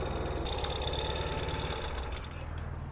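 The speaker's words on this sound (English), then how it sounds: "So very smooth running engine" A 2022 Ural Gear Up Sahara sidecar motorcycle engine idles steadily nearby, a rapid even mechanical putter that holds constant throughout, with a slight drop near the end.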